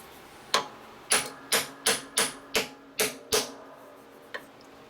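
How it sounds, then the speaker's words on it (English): A hammer strikes metal in a quick series of about eight sharp, ringing blows at a steady rhythm, close up, with a final lighter tap, as a hammer and dolly straighten a 1947-54 tombstone tail light bezel. "People ever heard of hammer and dolly?"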